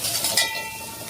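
Green chillies frying in oil in a pan for palak sambar, a brief close sizzle with a light metallic clink of a utensil near the start.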